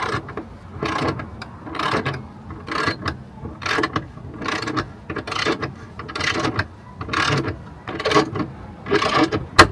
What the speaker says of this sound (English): Just kind of get it lodged, held onto there while I ratchet it down